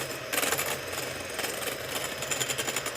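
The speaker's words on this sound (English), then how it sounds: "We're going to beat these egg whites to a stiff heat." An electric mixer whips egg whites toward stiff peaks, a steady whirring buzz with a rattling, pulsing texture that runs close and continuous, without talking.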